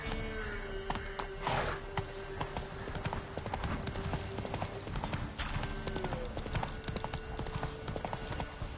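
Roach, Geralt's horse in The Witcher 3 video game, gallops with rapid, rhythmic hoofbeats, broken once by a short whinny, while a low background drone runs underneath.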